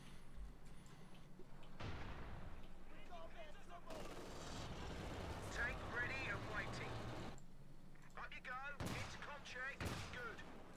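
Tank gunfire in a war video game featuring a Cromwell and a Panther, sounding as repeated heavy booms and bursts over a continuous rumbling engine bed, with someone talking over the action throughout.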